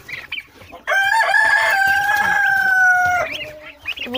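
Poultry at a feeder, with turkeys and chickens present: one long, loud, sustained call in the middle, surrounded by softer clucks and scattered noises.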